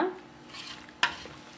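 A short wet scraping as a thick citron pickle mixture is stirred, with one sharper scrape partway through.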